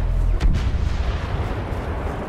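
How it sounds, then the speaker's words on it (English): Bombs explode in Star Wars Battlefront on the Bespin map, with a heavy boom early on followed by rumbling, crackling battle noise that fades slightly. "I just threw like a bunch of bombs and I kind of missed."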